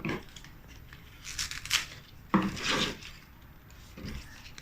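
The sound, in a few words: cutting pandan leaves into small pieces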